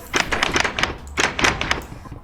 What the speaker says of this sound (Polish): Rozwalę mu zaraz te drzwi.